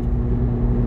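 A Chevrolet Corvette C8 Z06 engine drones steadily while the car cruises at moderate speed, a short, close, continuous rumble heard from inside the car.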